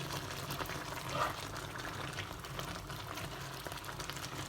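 Lechon paksiw simmering with vinegar in a pot, a soft steady bubbling and gentle liquid churn, faint and close, with a brief clink partway through.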